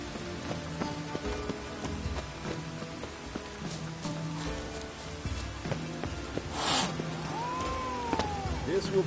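Steady rain patters on city streets in The Witcher video game, fairly quiet, with scattered footsteps and a few faint game-like tones layered over it.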